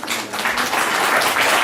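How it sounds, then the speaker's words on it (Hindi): Steady applause from an audience at the closing ceremony of a state under-12 girls' chess championship, dense and continuous for the full stretch with no voices rising above it. "जोरदार तालियां बजा दें।"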